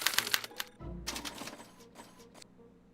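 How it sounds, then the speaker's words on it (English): Mechanical typewriter clatter from a special typewriter punching a mind-map punch card in the Back to the Future adventure game: a quick burst of sharp keystrokes, a low thud, then a second run of clacks and taps, close and fairly quiet. "they're relayed to this special typewriter, which prints out a punch card that represents the subject's mind map"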